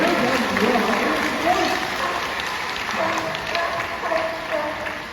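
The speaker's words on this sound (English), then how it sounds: "give them both a big round of applause." Crowd applause at a sea lion show at Knowsley Safari Park in the UK, a sustained wash of clapping from many spectators with voices and chatter mixed in throughout.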